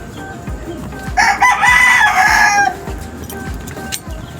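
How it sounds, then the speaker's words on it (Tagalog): A rooster crows once, loud and fairly close, over a steady background of rushing river water in Rosario, Pasig. "Ay manok dito."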